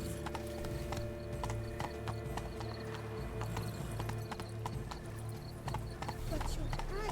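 A horse's hooves clip-clop at a gallop in The Witcher 3, a steady rapid beat under game music and ambience, with a brief whinny and character voices talking over it.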